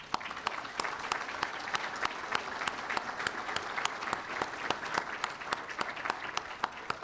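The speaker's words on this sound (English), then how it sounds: "I'd like to give you all a hearty round of applause." Banquet audience at a county economic development annual dinner gives a hearty round of applause, continuous clapping with a few sharp, prominent claps standing out near the front, sustained evenly throughout.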